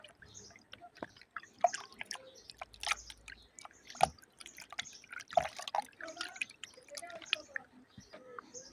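Water dripping and splashing as children bathe, scattered soft plops and drips of varying loudness, close and quiet, with occasional faint voices.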